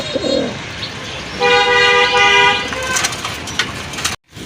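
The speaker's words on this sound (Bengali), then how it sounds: "সাদা কালো রাজগোল্লার একটা নর কবুতর দেখতেছেন আপনারা" Rajgolla pigeons coo low and faint near the start, then a loud harmonic toot-like tone sounds in the middle, with steady background noise and a sudden cutout near the end.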